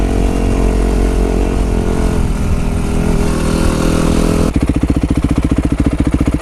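Yamaha YZ 250 F motocross bike engine during a break-in ride, loud and close with a steady buzzing drone, then shifting to a lower, rhythmic pulsing note.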